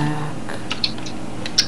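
A few scattered computer keyboard clicks while playing The Binding of Isaac: Wrath of the Lamb, sparse light taps close by over a low steady background hum.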